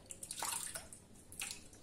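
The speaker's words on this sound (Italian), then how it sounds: "io mi vado a sciacquare così poi iniziamo a montare il sapone" Water splashes and drips as a face is rinsed at a sink during a wet shave, in short irregular bursts of splashing with brief pauses, close and fairly quiet.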